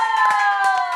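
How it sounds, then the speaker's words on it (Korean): People clap in a short burst of applause at a lively club gathering. A few sharp claps land over a steady, sustained tonal backdrop. "박수."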